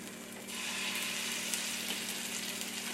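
Frikadeller meatballs go into a hot pan and a loud, steady hiss of frying fat rises and holds close by, with no talking.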